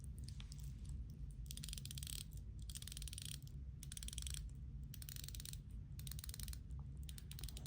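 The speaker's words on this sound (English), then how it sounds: "And let's hear some bezel action." Rotating bezel on an Islander ISL-19 dive watch ratcheting, bursts of rapid fine clicks in several quick runs separated by short pauses, close and quiet with no talking.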